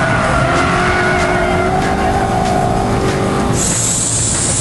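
An Aston Martin V8 Vantage sliding with a sustained tire squeal over a loud engine, the squeal holding steady for several seconds before breaking into a higher screech and roar near the end.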